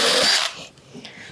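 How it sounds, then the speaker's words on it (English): A cordless drill with a 7/32 bit whines into the plastic of a Pelican V770 Vault case for about half a second, then stops, leaving quiet handling noise. "So I'm gonna grab a 7/32 drill bit."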